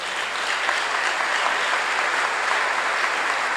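Sustained applause from a large crowd, steady and dense clapping throughout with no pauses.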